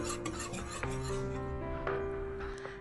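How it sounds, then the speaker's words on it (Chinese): A spoon stirring a batter of glutinous rice flour, rice flour, powdered sugar and milk: faint, continuous scraping and rubbing strokes against a bowl, partly under steady tonal background music. "然后搅拌均匀，搅拌至没有干粉"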